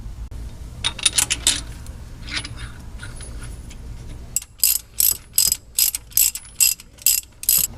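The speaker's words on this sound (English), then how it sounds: "So I'm going to go ahead and throw the bolt in and torque it to spec," A ratchet wrench torquing the crank pulley bolt on a HEMI engine, first some scattered metallic clicks and handling, then a loud regular series of ratcheting strokes close to the listener, with no talking.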